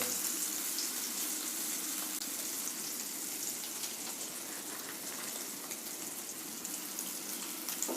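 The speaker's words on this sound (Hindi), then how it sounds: "ऐसे आप डाल दीजिए हल्के से आराम से, और इनको हम धीमी आंच में फ्राई करेंगे।" Potatoes frying slowly on low heat for dum aloo, heard as a soft, even hiss of oil that carries on without a break and is fairly faint.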